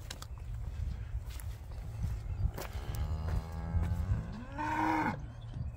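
An Angus crossbreed cow on a farm gives a single long, drawn-out moo near the end, fairly close and loud, after several seconds of quieter barnyard shuffling and ambient noise.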